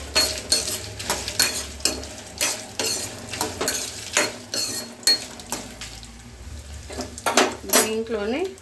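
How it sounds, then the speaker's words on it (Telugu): Dried red chillies stirred into a pan for Andhra-style gongura pickle, with repeated metallic scrapes and clinks of a spoon against the pan, close and fairly loud, with light sizzling underneath and a brief voice near the end. "ఎండుమిర్చి వేసుకుందాం. ఒకసారి కలుపుకుందాం."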